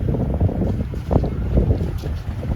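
A steady low engine drone from a sailboat motoring in light wind on a Mediterranean crossing, with wind buffeting the microphone and faint water wash, continuous throughout.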